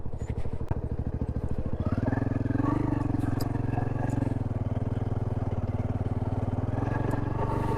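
A motorbike rides along a rough unpaved track in rural Purulia, its engine thudding close and loud with a steady pulsing note that rises slightly as it picks up, clattering under the ride, with no talk over it.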